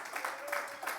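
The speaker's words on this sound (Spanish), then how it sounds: "Denle un fuerte aplauso a Cristo" Church congregation clapping for Christ during an online worship service, a quiet, dense patter of hands from a moderately distant crowd with a voice faintly over it.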